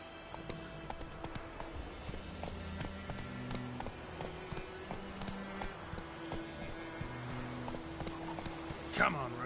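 Hooves of the horse Roach clip-clop at a steady galloping rhythm across a game world in The Witcher Wild Hunt, running continuously under music and ambient game sound, with a brief brighter swell near the end.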